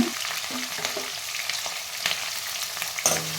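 Onions and green chilies sauté in a pan for wheat rava upma, a continuous close sizzle of frying with occasional spatula scrapes and knocks against the pan.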